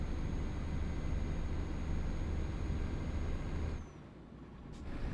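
A truck's air brakes let out a long, steady hiss as it comes to a stop in Euro Truck Simulator 2, the hiss cutting off abruptly near the end before a faint rumble returns.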